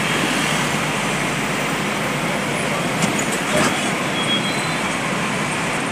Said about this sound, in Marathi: मित्रांनो केवढं जाम आहे.